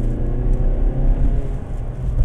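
A 2016 Mazda 3 accelerating as its transmission kicks down, heard from inside as a close, steady low engine drone and road rumble.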